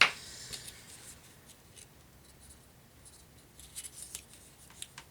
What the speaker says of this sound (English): I just kind of cut